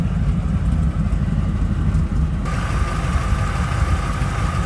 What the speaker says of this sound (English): 283 does have headers on it. Get a little bit of rumble out of it, nothing crazy.